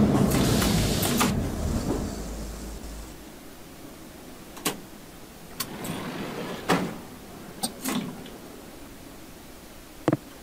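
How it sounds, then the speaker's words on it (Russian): Sliding doors on a six-car Yozh-3/Em508T metro train on the Crossline map close. A low rumble fades out early, then scattered sharp clunks and thuds follow at intervals, the last a crisp knock near the end. "Осторожно, двери закрываются."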